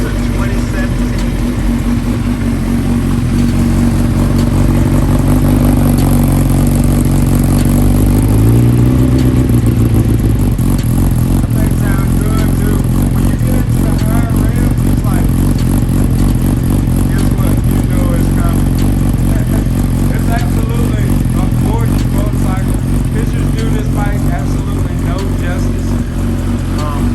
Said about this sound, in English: Exhaust is not overwhelming, but it's so deep, you'll hear this thing miles away